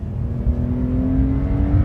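A Porsche 911 engine revs loudly and close, a throaty low growl rising slightly in pitch over a couple of seconds.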